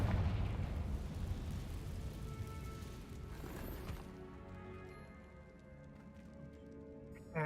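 A Confringo blasting spell explodes in the video game Hogwarts Legacy: a loud, booming burst with rumbling debris that rolls on for several seconds, then fades into quieter ringing and scattered crackles.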